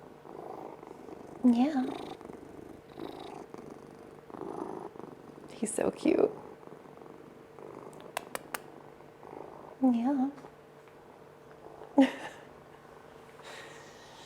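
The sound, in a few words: cat purring loudly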